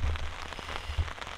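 Rain falls steadily outdoors, a dense close patter on surfaces with a few heavier drops, heard alone without voices.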